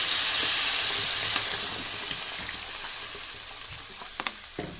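Water poured onto sizzling fried spices for a fish curry gives a loud burst of hissing steam that slowly settles into a softer bubbling sizzle, with a few clinks of a utensil near the end.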